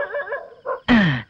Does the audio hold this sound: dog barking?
yes